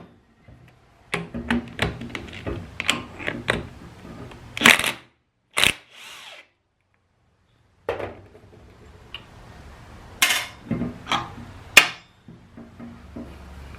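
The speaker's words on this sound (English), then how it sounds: "we'll go ahead and flip it over and pull our pulley off" Pulling the pulley off a 2nd Gen Cummins alternator on a weld table gives sharp metallic clicks, taps and clanks in irregular bursts, with a few louder knocks and pauses of near silence between them.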